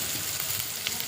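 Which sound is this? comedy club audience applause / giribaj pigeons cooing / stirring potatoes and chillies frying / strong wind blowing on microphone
stirring potatoes and chillies frying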